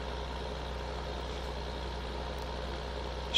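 A tractor engine idling in Farming Simulator 16, a steady low rumbling drone with an even tone that holds unchanged for a few seconds before a brief louder burst at the very end.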